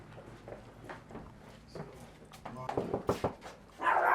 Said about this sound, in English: Is there a dog in here?